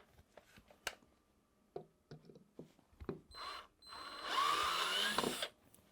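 A drill briefly whirs as it turns a screw extractor into a stripped screw, after scattered light clicks and handling taps; the motor burst is short and close, then stops.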